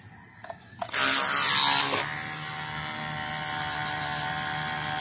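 DIY car wash foaming machine starts with a few knocks, then bursts into a loud hissing spray for about a second before settling into a steady mechanical hum and whoosh.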